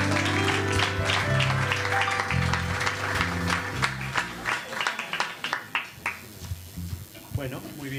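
Audience applause at a tango and milonga music performance, breaking out in loud scattered clapping as the accompanying music fades out.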